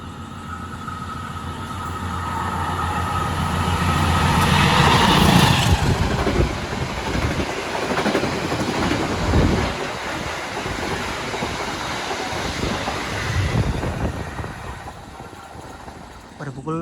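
Loud rumbling roar of the Matarmaja passenger train in Indonesia on rails, building to a peak then easing off steadily, with wind-like rushing noise throughout.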